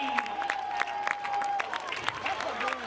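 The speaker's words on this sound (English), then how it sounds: "a lot of people clapping and really enjoyed the ball game" Spectators at a high school football game between Truckee and Konawaena clap, a scattered, moderately loud applause with some crowd noise and a voice talking over it.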